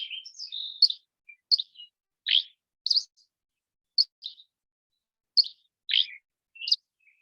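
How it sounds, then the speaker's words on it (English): Flycatcher in Southern Nevada singing a three-parted song of short, high chirps and buzzy notes in scattered bursts, clear and fairly near against silence. "And then the song is usually three-parted."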